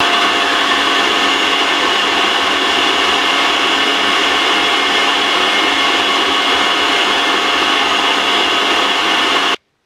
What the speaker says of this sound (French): je vais allumer le batteur et puis je vais arrêter de parler parce que sinon on s'entend pas